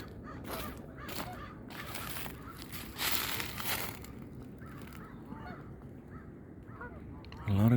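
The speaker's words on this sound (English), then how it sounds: "A lot of geese and ducks." Geese honk repeatedly along the Alameda Bosque trail by the Rio Grande in Albuquerque, with scattered calls at moderate distance over a soft outdoor background and a sharper, closer honk at the very end.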